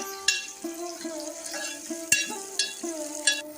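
Onion and tomato with curry leaves frying in a pan for misal rassa, soft sizzling under repeated sharp clinks and scrapes of a spatula stirring against the metal.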